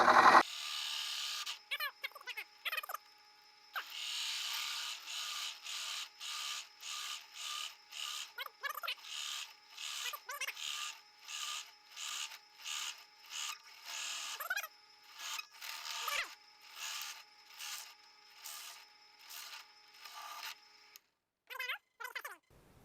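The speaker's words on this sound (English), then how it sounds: "We drill slowly and take the drill bit back out every once in a while to clean the shavings." A power drill bores a hole in wood for a bluebird house, producing rhythmic bursts of rasping grind that stop and restart repeatedly as the bit is pulled back out, close and moderately loud.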